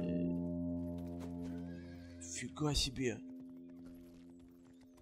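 A horse in the medieval horse-theft game Rustler gives a loud whinny over steady game music and hoofbeats, with someone speaking briefly during it.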